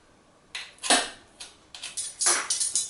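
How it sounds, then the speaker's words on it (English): Clicks and metallic clacks from a garlic press mincing cloves in a kitchen, a series of short close knocks and squeaks arriving in irregular bursts with no talking. "I love to use my garlic press."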